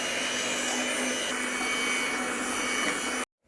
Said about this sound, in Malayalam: ഇനി നമുക്കിതൊന്ന് ബീറ്റ് ചെയ്യാം